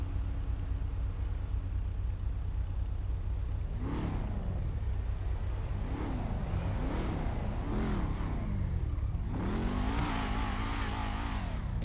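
A car engine revs hard several times in quick succession, each rise in pitch building and falling, ending in a longer climbing acceleration over a constant road rumble, heard from inside the vehicle on a drive toward the freeway.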